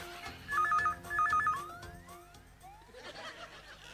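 A telephone rings indoors in a Hindi family sitcom with two short, warbling electronic trill bursts. Sliding tones and light laughter follow, all at moderate volume.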